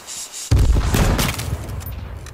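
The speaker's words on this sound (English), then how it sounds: "I sniped him down." A sniper rifle shot in H1Z1, one sharp loud crack after a brief quiet moment, followed by a booming echo that rolls off over the next two seconds.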